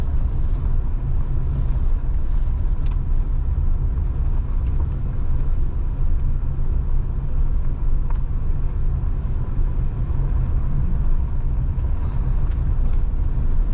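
Vehicle in four-wheel drive descending a mountain dirt road on the Steens Mountain Loop emits a steady heavy rumble of engine and tires on gravel, close and continuous with no talking.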